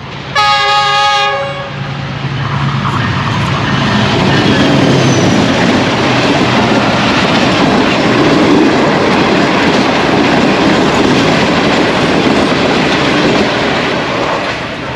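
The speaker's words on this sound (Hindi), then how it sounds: "गुजरात रेलवे स्टेशन पर 6 डाउन ग्रीन लाइन का स्पीडी थ्रू पास देखेंगे" Green Line express 6 Down speeds through Gujrat railway station in Pakistan, opening with a brief multi-tone horn blast, then a loud, sustained roar of passing coaches rushing by close for the rest of the stretch.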